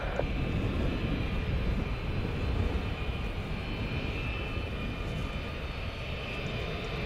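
A jet airliner takes off from runway 35 left at Orlando International Airport, a loud, steady engine roar that holds strong for several seconds with no talk over it.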